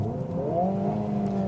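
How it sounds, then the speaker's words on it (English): A Kia ProCeed GT engine is gunned hard, its revs climbing in a rising, close, steady roar that holds for a moment without any talk. "gunning the engine like this"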